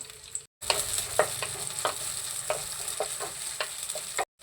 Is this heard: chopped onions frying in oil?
yes